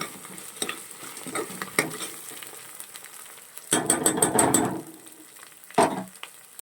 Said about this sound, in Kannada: ಚೆನ್ನಾಗಿ ಹಸಿ ವಾಸನೆ ಹೋಗೋ ತನಕ ಸ್ವಲ್ಪ ಚೆನ್ನಾಗಿ ಇದನ್ನು ಫ್ರೈ ಮಾಡ್ಕೊಳ್ಳಿ